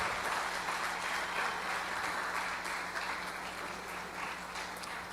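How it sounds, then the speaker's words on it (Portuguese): A church congregation claps steadily and joyfully for about five seconds, a dense even wash of applause with a faint low hum running beneath it and no voices standing out. "Então aplauda Ele com toda a alegria do seu coração"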